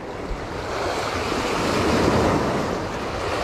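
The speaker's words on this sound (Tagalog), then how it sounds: "Lakas kasi ng alon mga kasolid." Heavy surf crashes and rolls continuously at a Dagupan City, Pangasinan shore, a broad roaring wash of water with wind noise buffeting the microphone, swelling slightly mid-way.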